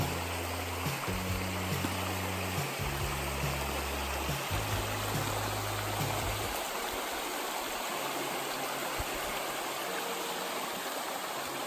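Steady rushing stream at a hiking-trail water crossing on the Eagle Rock Loop in Arkansas, a continuous broadband wash of flowing water, close and loud throughout, with low rumbling noises in the first half.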